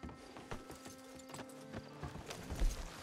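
Video game horse hooves clip-clop unevenly at moderate volume over a low rumble, with a brief louder thump near the end.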